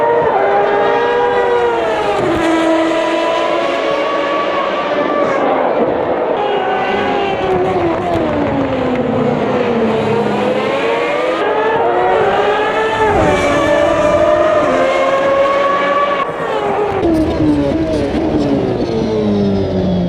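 Tyrell racing car engine running behind Ferraris, its note sweeping up and down through repeated revving and downshifts, loud and close throughout with no talk.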